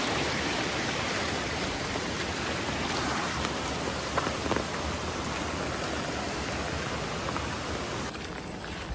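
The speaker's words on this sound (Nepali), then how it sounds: "तर नि सिमसिम त परिरहेछ नि पानी त।" Light drizzle falls steadily, making an even, continuous hiss of rain on surfaces with no pauses and no voices.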